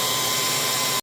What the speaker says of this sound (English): now I'm gonna use the air dryer, but only on cool, no heat, just to blow air and get it all dried out